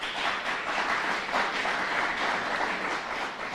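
An audience at a press conference applauds steadily throughout, a dense and even wash of clapping at moderate loudness.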